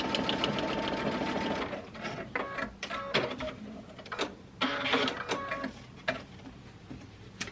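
Sewing machine stitching a placemat at stitch length 2.5 and width 3.5, running in quick mechanical whirring bursts with short pauses and clicking stops between them, close and fairly quiet.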